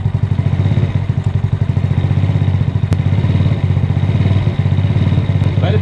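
A 50cc 139QMB scooter engine with a GY6 24mm CVK carburetor and big bore kit idles steadily up close, a loud even putter with a fast regular beat throughout.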